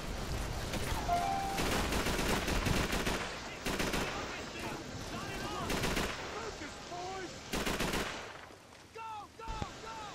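Gunfire in the video game Call of Duty 3 on an island battlefield: loud, dense bursts of rifle and machine-gun shots, repeated over and over, with battlefield din and a voice shouting.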